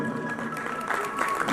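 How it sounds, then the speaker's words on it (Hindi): Audience applause in a Delhi auditorium during a music event after a child's performance, sustained clapping from a crowd at a steady level, swelling slightly near the end. "उनके लिए जोरदार तालियां"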